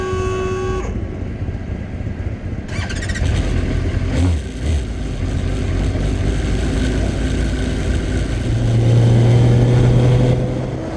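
Race cars on the rolling lap of the 66th Birkett Relay Race, a continuous blend of engine drone from several cars that swells and rises in pitch toward the end as they accelerate.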